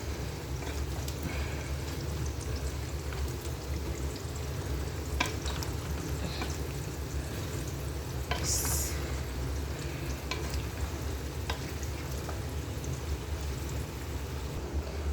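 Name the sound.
meat with pumpkin being stirred and fried in pan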